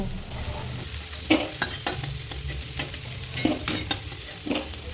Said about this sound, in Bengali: মিডিয়াম ফ্লেমে আলু হালকা লাল করে ভেজে নেব।